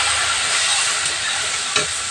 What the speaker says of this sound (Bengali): চিকেন এরকম ভাজা ভাজা হয়ে গেছে অল্প একটু পানি দিয়ে দেবো